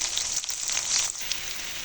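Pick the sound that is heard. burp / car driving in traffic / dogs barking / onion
onion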